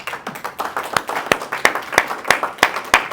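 A church congregation claps during a sermon, starting as loose scattered applause that settles into firm rhythmic clapping in a steady beat, close and fairly loud, with no talking over it.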